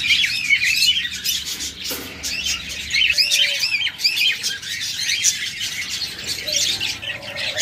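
Caged lovebirds and parrots at a bird sale squawk and chirp in a dense, constant chorus, loud and close, with a few sharper calls standing out.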